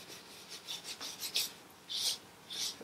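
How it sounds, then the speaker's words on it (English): A cloth wipes a finish coat over a wooden orb in soft, quiet, rhythmic rubbing strokes, each a short raspy swish, with a couple of longer passes near the end. "I'm just going to wipe this over."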